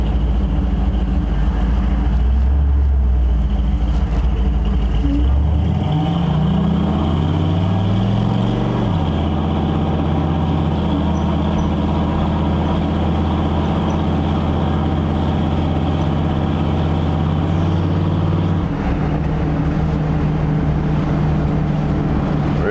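A 1964 Chevrolet Impala's engine rumbles steadily throughout, loud and close, with a rising pitch sweep as it pulls away from about five seconds in, then settles into a sustained drone.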